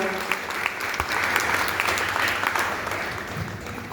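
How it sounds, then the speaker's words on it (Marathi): Sustained, loud applause from a large audience at a Buddhist youth conference in Karad, dense continuous clapping for several seconds with no voices standing out. "जोरदार आमच्या वडिलांसाठी एक वार टाळ्या होत्या."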